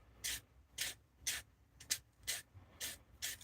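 Small wooden piece being sanded by hand, seven rhythmic rasping strokes at a steady pace, close and fairly quiet with no talking.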